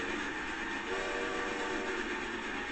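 A train rumbling past in a Forza Horizon 2 race, heard as a steady, dense roar that holds at an even loudness throughout.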